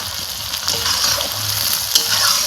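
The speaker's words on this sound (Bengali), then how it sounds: "এবার এই মশলাটাকে হালকা আছে ভাজতে হবে" Spices frying lightly in a pan give a soft, even sizzle, with faint stirring touches and a brief tap near the end. No one speaks.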